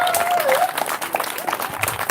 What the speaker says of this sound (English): let's give a little round of applause if you guys don't mind.